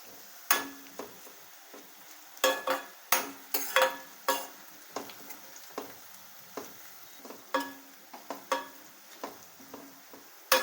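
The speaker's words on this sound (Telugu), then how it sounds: "జీడిపప్పు, చెక్క, లవంగ, యాలక్కాయ కూడా ఆయిల్లో వేగినాయి" Cashews, cinnamon, cloves and cardamom fry in oil with onion for a gravy chicken dish, a quiet continuous sizzle broken by frequent sharp clinks and scrapes of a spoon stirring against the pan.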